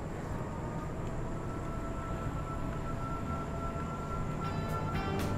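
Inside a carriage of the KA Harina Premium train between Bandung and Cirebon, a steady, loud rumble and hum runs throughout, with no voices.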